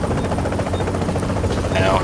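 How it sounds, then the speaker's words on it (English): A helicopter in the shooter video game Tom Clancy's The Division thuds and whirs steadily nearby, mixed with game sounds and a person talking over it. "Trying to shoot down the chopper."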